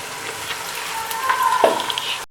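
Minced mutton frying with onions in a pan, a steady close sizzle with a brief stirring scrape near the end.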